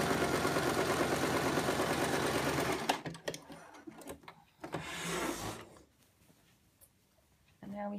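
A sewing machine stitches a ruffle skirt panel, running in a steady rapid whir for several seconds, then stopping and starting in short bursts with quiet pauses between.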